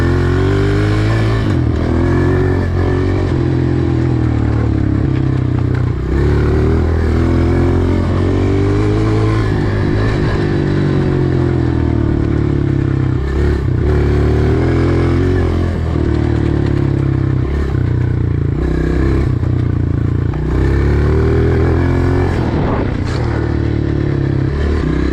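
A Honda CRF125F dirt bike engine drones loud and close in second gear, its steady revs rising and falling in repeated sweeps with mechanical clatter throughout.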